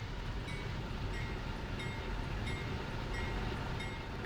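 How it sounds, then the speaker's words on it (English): Long freight train of box cars and grain cars rolling past, a continuous low rumble with regular rhythmic clicks of wheels over rail joints, steady and moderately loud. "This is a monster of a freight train."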